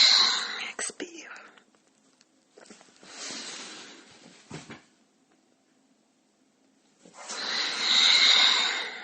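Breathy exhalations during a neck-relaxation breathing exercise come as soft hissing breaths close to the mic, separated by quiet pauses, with a final longer, louder outbreath.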